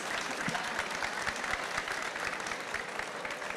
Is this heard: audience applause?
yes